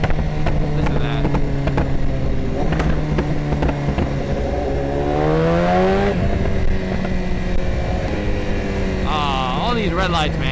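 A BMW S1000RR fitted with a Vandemon full titanium exhaust accelerating under load, its loud engine note climbing through quick-shifted gear changes with crisp pops, heard close and continuous, wind noise around it.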